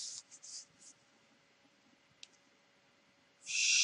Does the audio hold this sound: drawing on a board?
yes